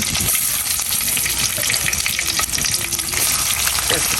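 Chopped garlic and onion frying with cumin, bay leaf and dried chili in a pan, a loud, dense, continuous sizzle with crackling spatters and stirring throughout, no speech.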